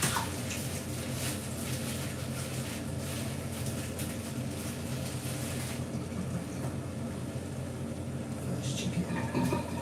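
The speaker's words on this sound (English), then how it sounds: "So, my chicken I wash with lime." Raw chicken being washed with lime under running water in a kitchen sink, a steady broadband rush of water and splashing that continues throughout, loud and close.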